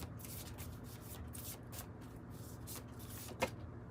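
Soft, continuous papery rustling of tarot cards being shuffled, steady and close, with one brief sharper snap near the end.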